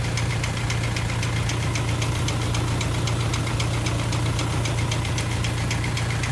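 A Lovol tractor with a sprayer attached runs at a steady idle, giving a continuous low engine hum with a faint knocking texture. The sound is close, constant and even, with no voices.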